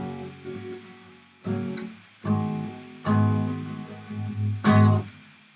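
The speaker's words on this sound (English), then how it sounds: "So all together the chord strummed sounds like this." An acoustic guitar chord from an intermediate lesson, strummed several times in slow succession, each strum ringing and decaying, played close and clear with no voice over it.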